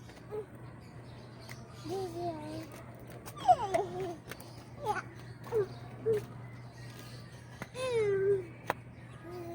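A kitten meows repeatedly in short, high cries spaced a few seconds apart, fairly close, over a faint steady hum.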